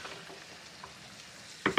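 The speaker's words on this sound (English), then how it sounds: "Give the pancetta a little toss." Pancetta frying in a pan, a soft, steady sizzle heard up close with faint stirring, ending in a brief louder clatter as it is tossed.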